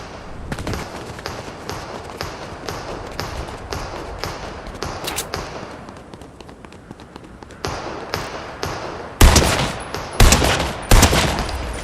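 Shooter video game gunfire crackles in rapid repeated shots and short bursts throughout, growing louder and heavier in the final seconds, with sharp close cracks.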